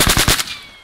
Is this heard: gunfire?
yes